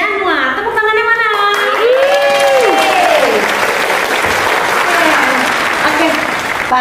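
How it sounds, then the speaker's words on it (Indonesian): Loud, steady applause from an audience greeting a primary-school teacher-education alumnus at a university program event, with a host's voice talking over the clapping at the start before it fills the room alone. "Tepuk tangannya mana?"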